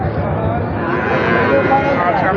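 Pied Sahiwal bull calves at a busy village cattle market give low, drawn-out moos amid crowd murmur and nearby talking, with a steady dense market din.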